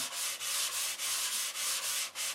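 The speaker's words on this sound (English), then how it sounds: "The sanding." Steady sanding of an airplane's finish, a continuous close-up abrasive rasp repeating in even back-and-forth strokes about every half second, with no voices.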